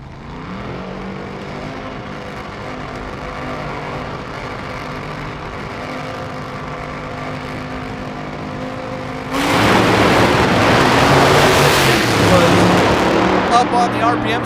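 A top alcohol dragster makes a qualifying pass down the drag strip at about 270 mph, its engine rising from a steady drone into a sudden loud, sustained roar near the end.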